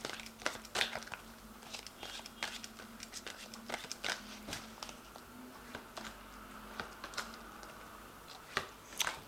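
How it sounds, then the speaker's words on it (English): Tarot cards from an Angel Tarot deck are shuffled and drawn, giving a steady run of close, crisp card flicks and papery rustles with no talk. "So I'm going to just draw some cards from the Angel Tarot."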